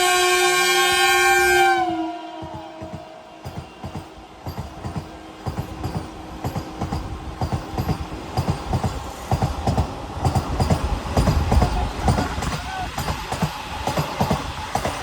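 A Vande Bharat sleeper train sounds a long loud horn, then rolls into New Jalpaiguri station with rhythmic wheel clatter and clanks that build steadily.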